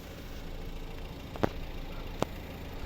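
The 1.6 D2 diesel engine of a 2011 Volvo V50 estate runs at a steady idle with an even, continuous low rumble. Two brief sharp clicks or knocks stand out above the drone.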